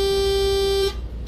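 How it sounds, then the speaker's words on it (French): A Volvo 7700 city bus horn in OMSI 2 sounds as one loud, steady, bright honk, holding for just under a second before cutting off abruptly, with no talking over it. "c'est le klaxon."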